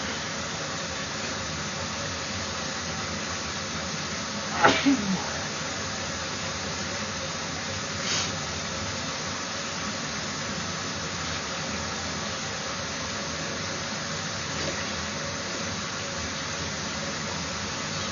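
Water flows through a residential backflow preventer in a constant soft hiss, steady and moderately faint, interrupted by a short clatter of handling noise early on and a small bump later.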